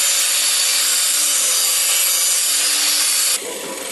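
Steady, loud abrasive sanding on a wood fireplace surround, continuous and close, easing slightly near the end.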